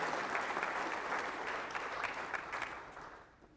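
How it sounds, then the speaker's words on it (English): A conference audience applauds a speaker, with dense steady clapping throughout that thins and fades toward the end. "let's give Scott a big round of applause"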